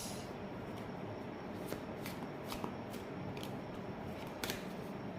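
Tarot cards shuffled by hand in a quick, crisp riffling patter, with sharp flicks and snaps as cards are drawn, close and steady with no talk.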